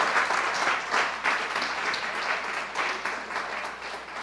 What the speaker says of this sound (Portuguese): Será que você pode dar uma salva de palmas ao Senhor?